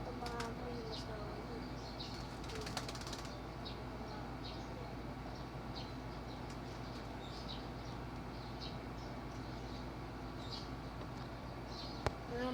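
Tame pigeons coo softly and repeatedly close by, a low steady murmur over constant background hum, with brief faint noises scattered through.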